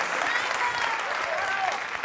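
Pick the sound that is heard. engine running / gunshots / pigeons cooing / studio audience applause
studio audience applause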